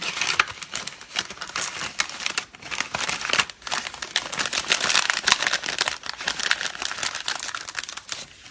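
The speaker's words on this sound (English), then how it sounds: "And just slide your Designer Series paper in there." A sheet of Designer Series patterned paper slides into a paper gusset treat bag during crafting, producing continuous close crinkling, rustling and papery scraping with irregular crackles throughout and no voices.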